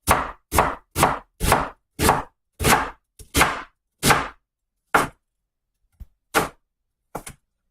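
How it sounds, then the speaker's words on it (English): A knife chops an onion on a cutting board in about a dozen crisp, close, evenly spaced strokes that slow and thin out toward the end. "we're just going to cut the onion up"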